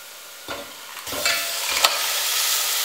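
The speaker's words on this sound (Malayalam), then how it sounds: "ഇനി ഇതിലേക്ക് വൃത്തിയാക്കി വെച്ചിരിക്കുന്ന ഞണ്ട് ചേർക്കാം." Cleaned crab pieces hit a hot frying pan and get stirred, three scraping stirs over a continuous loud sizzle.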